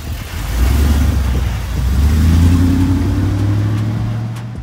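An Isuzu NPR gas dump truck's engine revs up and pulls away, a loud, steady mid-pitched drone that climbs through gear changes and then slowly fades.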